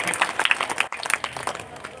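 An audience at a talk on Mahanubhav thought claps loudly, with distinct sharp individual claps standing out in a fairly sparse, uneven burst that briefly dips in the middle.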